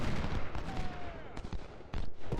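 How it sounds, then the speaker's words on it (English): Civil War troops firing a musket volley in Ultimate General: Civil War at the Battle of Cedar Mountain, a brief rolling crackle of massed shots that sounds distant, with a few short bursts and a voice talking over it. "Nice little volley by Moore, whose troops are doing just okay."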